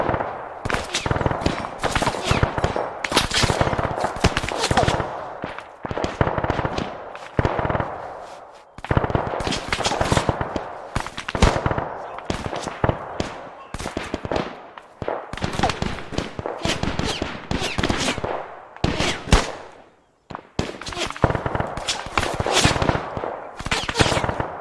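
Rapid bursts of automatic gunfire from a tower in the WW2 setting of ArmA 3 repeat again and again, with short sharp rattles separated by brief pauses, loud and without talk.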